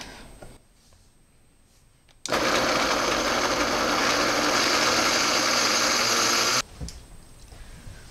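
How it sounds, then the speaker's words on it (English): A kitchen blender starts abruptly and whirs loud and steady for about four seconds, blending soaked ingredients for a dairy-free green bean casserole sauce, then cuts off to near quiet with faint handling clatter before and after. "So that all goes in the blender, and I'm just going to blend it until it's smooth and opaque."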